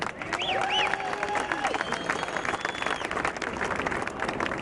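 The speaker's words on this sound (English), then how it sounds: "Big round of applause for Lauren." Audience at the Spectrum arena demolition ceremony in Philadelphia breaks into steady, sustained applause with some cheering and whistles, loud and close throughout.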